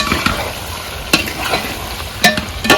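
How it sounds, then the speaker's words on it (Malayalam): Pork roast fries in a pan with coconut pieces and curry leaves while it is stirred. Steady sizzling runs throughout, broken by a few sharp scraping clicks from the spoon, close up and with no talking. "തേങ്ങാക്കൊത്തൊക്കെ ഇട്ട് ഫ്രൈ ആണ് റെഡിയായിക്കൊണ്ടിരിക്കുകയാണ്"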